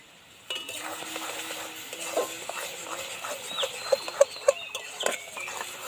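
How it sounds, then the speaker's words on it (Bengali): Grated raw mango pickle with ground spices being stirred in a pan, a steady close scraping and soft sizzling with small clinks, continuous and moderately quiet. "মশলাটা দেওয়ার পরে কিন্তু আরও নাড়িয়ে চাড়িয়ে তিন মিনিটের মতো এইভাবে রান্না করলেই"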